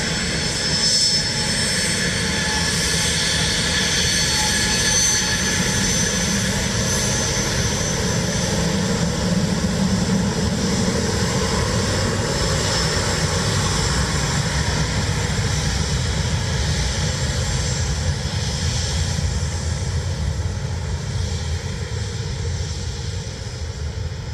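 A Turkish Airlines jet from Atlanta, bound for Istanbul and diverted into Dublin Airport, roars loud and steady on its landing approach. The engine noise holds for the whole stretch, broad and rumbling, and no voices are heard.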